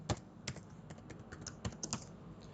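Quiet keystrokes tapped on a computer keyboard while entering a password, a short irregular run of close clicks with brief pauses, no voices.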